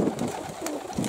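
High-flying pigeons coo in low, throaty repeated murmurs, several birds close together, with soft overlapping calls and a steady muffled background rumble.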